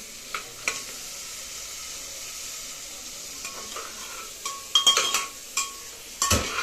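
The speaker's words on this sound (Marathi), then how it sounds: "या भाजीला जरा हलवून घेते. हलवून जरा थोडी तळली ना तेलामध्ये." A vegetable fries in oil while being stirred, with a continuous soft sizzle and several sharp metallic clinks and scrapes of a spoon against the pan, growing busier toward the end.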